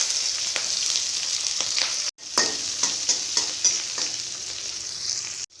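Mustard seeds, urad dal, green chilies, curry leaves and cumin fry in hot oil for a dhal fry tempering, giving a steady close sizzle and crackle with a few stirring scrapes and two brief drops in sound.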